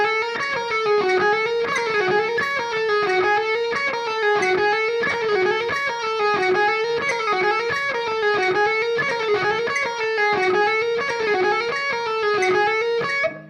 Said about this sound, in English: what I'm going to do is I'm going to put in bursts of 30-second notes